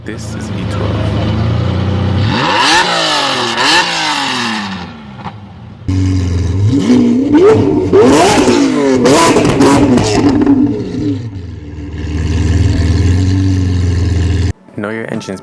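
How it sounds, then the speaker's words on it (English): A V12 car engine revs hard through repeated rising and falling sweeps, loud and close, with brief pauses and a sharp cut near the end. "This is V12."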